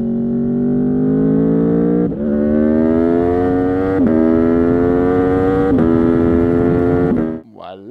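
A V4 motorcycle engine revs hard and steadily, its deep droning tone climbing in stages with brief dips between throttle pushes, loud and close.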